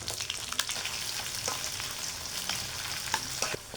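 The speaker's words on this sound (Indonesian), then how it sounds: "kita siapkan wajan isi minyak, kita siap goreng." Chicken skin and shallots fry in hot oil in a wok, giving a steady close sizzle with occasional sharper crackles and pops, no talking.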